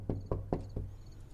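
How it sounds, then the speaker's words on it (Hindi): Someone knocks on a door four times in an even rhythm, each rap sharp and close, with no talking. "कोई दरवाजा खटखटा रहा है।"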